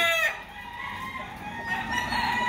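A fighting rooster clucking and crowing close by, a few short calls at the start followed by quieter rural ambience.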